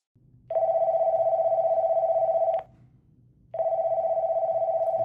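A phone line rings back while a call goes through to a support center: two long electronic ring tones, each about two seconds, separated by a short pause, clear and alone.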